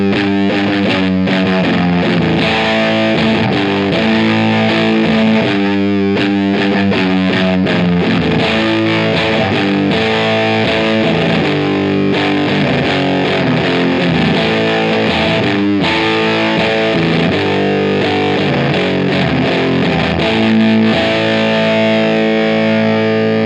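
Heavily fuzzed electric guitar through a Big Muff fuzz pedal, playing a thick, sustained riff with a band behind it, loud and continuous throughout.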